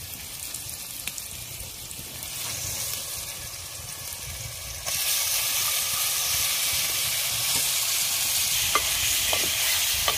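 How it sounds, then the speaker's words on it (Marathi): Mutton frying with turmeric in oil over a wood-fired clay stove hisses loudly and steadily. The sizzle jumps sharply about halfway through as the meat goes into the hot oil, with occasional stirring clinks and no talk. "आणि लगेच याच्यामध्ये आपल्याला मटण टाकून द्यायचं आहे."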